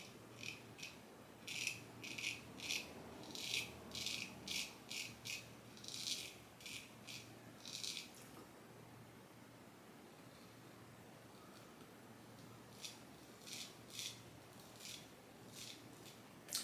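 A straight razor, a Focus Japanese frameback, is shaved across the grain over Mitchell's Wool Fat lather: close, faint, rhythmic scraping strokes in regular bursts, a pause, then a few more strokes.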